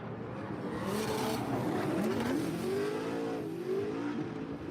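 Corvette drift car competing at a Formula Drift Irwindale top-32 event, its engine droning steadily with rising and falling revs through a transition, loud and continuous with no talk over it.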